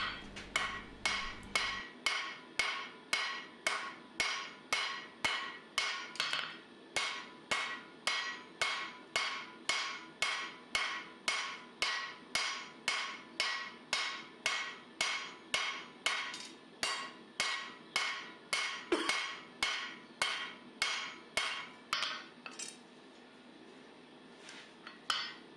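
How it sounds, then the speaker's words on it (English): A cross peen hammer strikes hot round-stock steel on an anvil while forging a knife bevel, ringing metallic blows falling in a fast, steady rhythm of roughly two per second for over twenty seconds. "we're going to do all the roughing with the cross peen"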